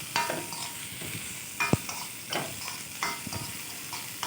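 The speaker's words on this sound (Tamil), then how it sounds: "நல்லா போட்டு வதக்குங்க. ப்ரௌன் ஆகணும்." Vegetables sautéing in a hot pan until browned, a steady close sizzle broken by repeated scraping stirs and a sharp clack of a utensil against the pan.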